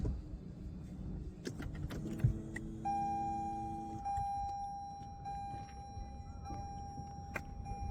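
Inside a Lexus ES300h, a single electronic beep sounds as the engine is switched off, followed by a steady high chime tone pulsing over low engine rumble and faint rattles.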